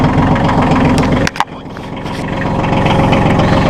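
A 2008 Massey Ferguson 1533 compact tractor engine cranks with a brief sputter, then settles into a steady, loud diesel idle that hums on close by.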